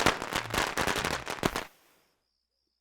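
Fireworks going off in a rapid crackling string of sharp pops and bangs, loud and close, stopping abruptly into near silence.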